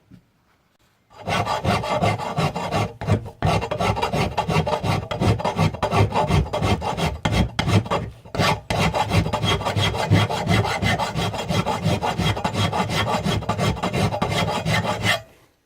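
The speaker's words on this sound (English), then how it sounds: "Just going to file that bit down, and then we got some squareness." A hand file rasping steel while squaring a knife makers plunge line guide, steady, loud back-and-forth strokes running continuously for about fourteen seconds after a brief pause, with a couple of short breaks and no voices.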